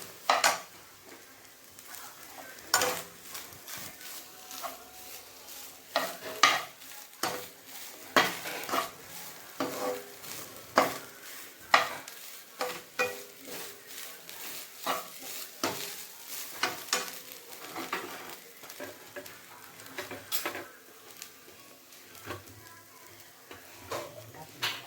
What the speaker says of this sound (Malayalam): തേങ്ങ ഇട്ട് നന്നായി വറുത്തെടുക്കുക.